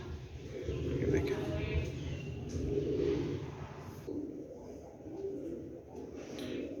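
Sialkoti pigeons coo in soft, low repeated murmurs close by, under someone talking.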